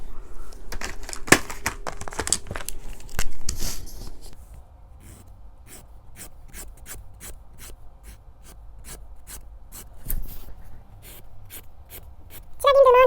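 Colored pencils are rubbed onto paper in quick, scratchy back-and-forth strokes, close and soft. A flurry of strokes at first gives way to evenly spaced shading strokes, and a brief voice sounds at the very end.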